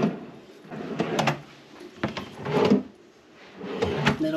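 Drawers slide open and shut several times in quick succession in a hotel room, wooden rumbles and soft thuds close by, with no talking.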